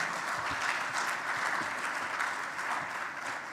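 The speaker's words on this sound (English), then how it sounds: "Can we give her another big round of applause?" Audience applause for a minister at an education report event in South Africa, sustained dense clapping from a crowd, even and steady throughout with no voices on top.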